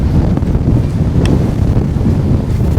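Strong outdoor wind buffeting the microphones during an airgun pest-control outing, heavy continuous low rumble and roaring gusts close up, with no other sound clearly heard.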